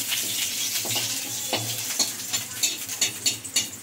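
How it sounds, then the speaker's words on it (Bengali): Dried red chillies and a bay leaf frying in a little hot oil, a close crackling sizzle with spatula scrapes and stirs that grow sharper and more frequent toward the end. "শুকনো লঙ্কাটা একটু ভাজা ভাজা হবে।"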